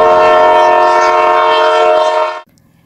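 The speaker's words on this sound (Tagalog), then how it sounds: "Sa loob ng tren." Train heard from inside, a loud sustained horn blast with harmonic tones lasting over two seconds before cutting off abruptly, leaving a low rumble of the carriage.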